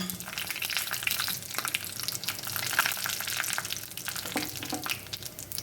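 Dried red chillies crackle and sizzle in hot oil with mustard seeds, a steady busy frying hiss with scattered sharper pops, close and alone with no voices.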